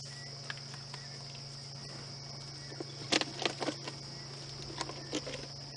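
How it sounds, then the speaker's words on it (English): A steady high-pitched drone of cicadas calling far off, continuous and faint over a quiet evening background with a few soft knocks, heard during a sunset safari drive. "You can hear the cicadas starting to call in the distance here."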